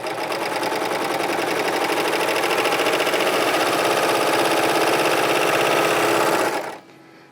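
A serger sewing machine stitches a narrow seam, running at a steady fast mechanical whir for about six and a half seconds before stopping abruptly, loud and close with no voices.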